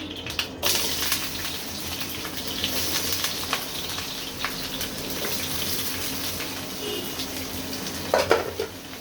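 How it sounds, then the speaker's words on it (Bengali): Chopped onions frying in a pan for a beef chaap bhuna give a low, steady sizzle with a few faint clatters and scrapes, quiet and continuous throughout. "আমি দিচ্ছি পেঁয়াজ কুচি"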